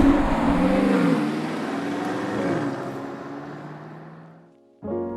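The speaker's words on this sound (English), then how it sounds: "put it into Sport Plus, mash the throttle, and just watch this thing put a smile on your face." 2020 BMW X6 M50i in Sport Plus accelerating at full throttle, a loud, close engine roar that holds strong, rises in pitch through the gears, then fades away before a brief burst returns at the end.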